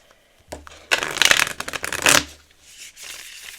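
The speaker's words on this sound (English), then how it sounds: "I just saw the devil as I was shuffling." Tarot cards shuffled by hand in a quiet room, a soft riffle building into a dense burst of papery flutters, then a brief tail of lighter card shuffling.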